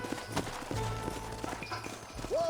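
Horses ridden in Red Dead Redemption clip-clop along at close range, then slow to a halt, with a brief whinny near the end and faint game ambience underneath.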